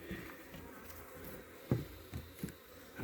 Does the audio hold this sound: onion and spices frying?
no